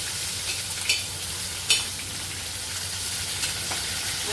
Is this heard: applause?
no